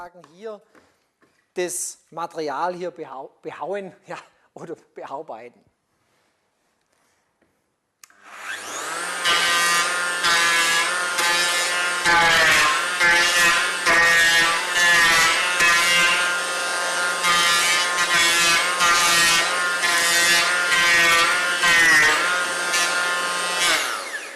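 A brief stretch of talking and pauses gives way to a loud, continuous motorized whine of a Festool HL 850 power planer cutting wood, steady with small fluctuations.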